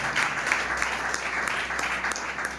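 Church congregation clapping at an Assemblies of God service in Garam colony, Palakonda, with a steady, moderately loud wash of many hands that holds evenly for a few seconds and has no speech over it.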